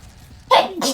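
A single sharp sneeze, sudden and close, bursts out over faint background in a Polish playthrough of Hogwarts Legacy, followed by a brief breathy tail.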